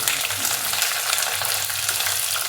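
Onion and tomatoes frying with whole spices in a pan for masale rice, a loud, dense, continuous hiss of sizzling oil with light stirring, close up and without any speech.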